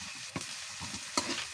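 Chopped onion and ginger sauté in a hot pan, a soft sizzle broken by a few sharp spatula scrapes and knocks as the mix is stirred.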